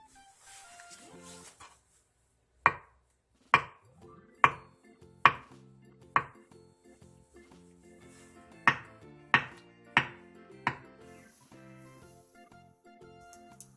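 A knife slicing soft tofu on a cutting board, giving about ten sharp, separate taps in two uneven groups, close and fairly quiet against a nearly silent background.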